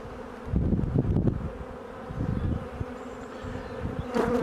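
Close, busy droning of many honey bees on a frame at an open hive, rising and falling in short bursts with no voices.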